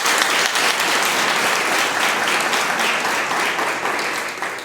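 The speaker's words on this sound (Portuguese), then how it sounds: "Se forem bater palmas, é para Jesus" Sustained applause from an audience at a spiritist lecture, a dense, even wash of clapping that holds steady throughout and fades slightly at the very end.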